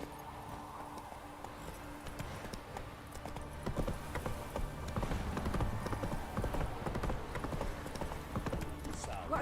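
Horse hooves clip-clopping in The Witcher 3, a quick rhythmic run of hoofbeats that grows louder midway, with a person talking over the game sound.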